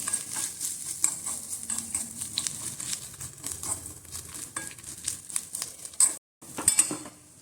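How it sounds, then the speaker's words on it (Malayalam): A spoon scrapes and taps around a pan while grated coconut roasts for a Kerala vanpayar mathan erissery. Light clinks and a low sizzle run steadily and close up, broken by a brief silent gap near the end, with no voices. "നന്നായി മൂപ്പിച്ചെടുക്കുമ്പോഴാട്ടോ അതിൻ്റെ ഒറിജിനൽ ടേസ്റ്റ് വരും."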